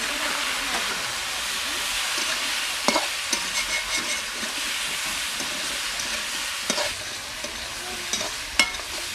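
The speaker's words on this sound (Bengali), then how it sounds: "নুন আর হলুদ দিয়ে আলুগুলোকে ভালো করে ভেজে নেব।" Potatoes frying in a pan with salt and turmeric, a continuous close sizzle with occasional louder scrapes and stirs, no talking.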